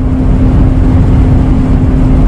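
A 2002 Toyota Kijang LGX with a 2.0 EFI engine is held at revs, giving a loud, close, steady droning roar with no voices.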